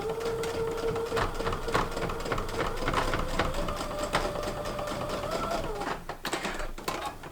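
A sewing machine stitching through thick fabric, its needle hammering in a fast steady rhythm with a motor whine that strains and wavers near the end, close and loud with no talking.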